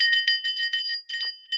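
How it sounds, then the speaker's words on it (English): A handbell rings a rapid, bright series of metallic strokes to open a Samhain silent supper, clear and close, with brief pauses between clusters of rings and no talk. "you would ring your bell to signify the silent supper starting"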